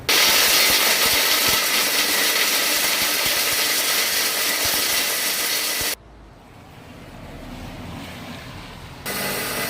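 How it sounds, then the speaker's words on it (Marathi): A 3 HP single-phase mixer grinder grinds moist dry dates in a loud, steady, harsh whir for about six seconds, then drops sharply quieter and surges back up near the end, with no talking. "आता ही आपण तेवढी ग्राइंडिंग करून पाहणार आहे 3 HP या सिंगल फेस मिक्सरमध्ये"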